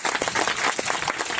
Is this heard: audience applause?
yes